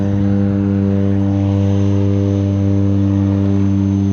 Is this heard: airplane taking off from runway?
yes